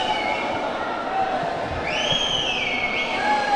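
A large protest crowd in Shimla after pushing past iron barricades, a dense continuous roar of many voices with shouts and a rising whistle-like cry above it.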